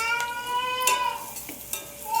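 Oil sizzles in a pan, the frying for a simple egg fry, with a steady crackle broken by a few sharp metallic clinks and scrapes of a spatula against the pan.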